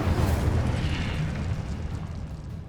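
A Confringo fire-blast spell in Hogwarts Legacy, a loud, rumbling explosion that booms up front and slowly fades out over a couple of seconds.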